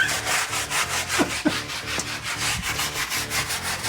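A brick is scrubbed with quick, rhythmic back-and-forth strokes, giving a close, steady abrasive rasp that repeats evenly for a few seconds, with no voices.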